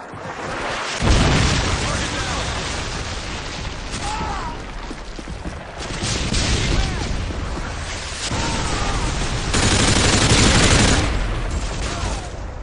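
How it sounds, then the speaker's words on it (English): Call of Duty: Modern Warfare 2 multiplayer on the Bailout map in Headquarters mode: continuous gunfire and booming explosions from a Predator missile strike, with loud bursts building near the end and game voices speaking in the mix. "Friendly Predator missile incoming."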